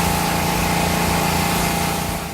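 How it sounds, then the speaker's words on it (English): Power washer at low pressure, about 800 psi, rinsing chemical stripper off the logs of a cabin: a constant, loud motorized drone with a steady spray hiss and no pauses. "a crew member will rinse off the agent with a power washer using only 800 pounds per square inch"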